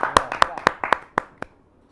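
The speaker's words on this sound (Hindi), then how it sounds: "या जोरदार ताली के साथ नेहा शर्मा" Audience clapping at a Hindi kavi sammelan poetry recital: about seven sharp, distinct hand claps in a loose rhythm that thin out and fade within two seconds.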